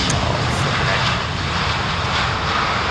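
Jet aircraft engine noise at London Heathrow, from a plane operated by Hi Fly, a loud steady broadband roar with wind buffeting on the microphone, with a voice talking over it.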